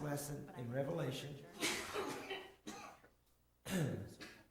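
Someone coughs and clears their throat several times during a lesson, mixed in with talk and light laughter.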